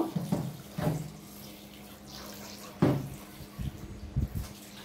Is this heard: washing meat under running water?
yes